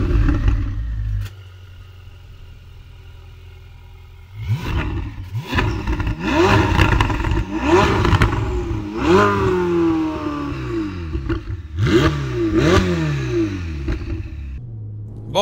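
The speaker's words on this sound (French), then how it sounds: "on est à bord de cette Ferrari 488 GTB Novitec" A Ferrari 488 GTB Novitec with a special exhaust idles with a low rumble, then the engine roars into repeated hard accelerations, pitch climbing through gears with shift breaks, loud and close without talk.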